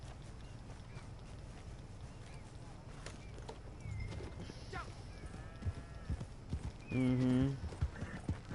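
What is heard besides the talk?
horse hooves clip-clop, from a video game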